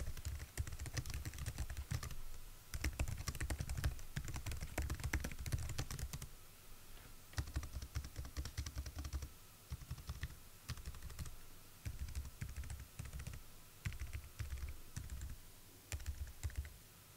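Fingers type on a Logitech MX Keys Mini for Mac in bursts of soft, quiet keystrokes. Brief pauses break up the close, low-profile clicking.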